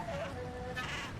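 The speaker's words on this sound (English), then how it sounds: "Now all the sheep are against me." A video game sheep from Mortal Shell 2 bleats with a wavering, nasal call, followed quickly by a second higher bleat, fairly close.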